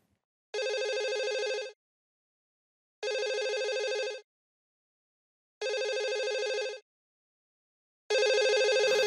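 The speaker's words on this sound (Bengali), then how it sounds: "দাদি আমার মনে হচ্ছে তোমার ফোনটা বাজতেছে" A mobile phone rings at home, four evenly spaced bursts of a tonal ringtone with silent gaps between, clear and fairly near, the last ring louder and cut off.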